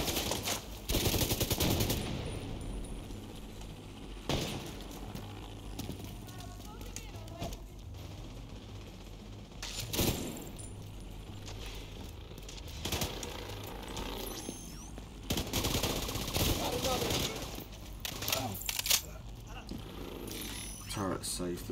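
Automated turret in The Division 2 firing rapid bursts of gunfire, loud and close, in repeated volleys with gaps between them amid other game noise.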